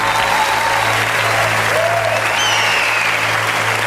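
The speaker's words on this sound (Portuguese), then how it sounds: "E as palmas exaltam o nome do Senhor." A church congregation at an Igreja Nova Aliança service claps continuously and steadily, a dense, even wash of hands filling the room at a loud level.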